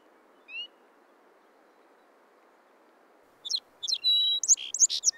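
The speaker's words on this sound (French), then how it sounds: "Un couple de bruants chanteurs niche au sol, quelque part autour du marais." Song sparrows near a marsh in wolf country: one faint chirp, then a burst of bright, varied song notes close by over a steady soft background hiss.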